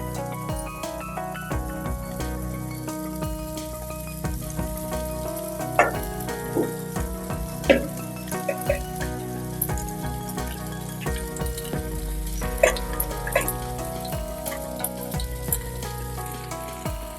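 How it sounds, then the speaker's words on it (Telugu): Boiled macaroni pasta is stirred into a spicy, tangy curry in a hot pan, giving a steady sizzle with scraping and clinking spoon strokes throughout, close and moderately loud, with no talking. "ఈ విధంగా పాస్తా వేసుకున్న తర్వాత మొత్తం అంతా కలిసే విధంగా బాగా కలుపుకోవాలి"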